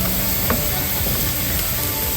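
Steady, dense sizzling of pork on an electric tabletop grill, a continuous crackling hiss with no voices, loud and close throughout.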